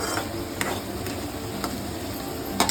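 Chopped onion frying in a pan for a fenugreek leaf vegetable dish, a steady close sizzle with occasional soft clinks of a spoon stirring against the pan.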